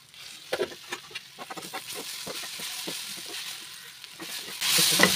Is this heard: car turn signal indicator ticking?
no